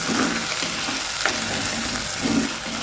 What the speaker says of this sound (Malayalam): വലിയ തക്കാളി വേണം കുറച്ച് കറിവേപ്പിലയും വെക്കും തക്കാളി ഒന്ന് വഴന്ന് വേണം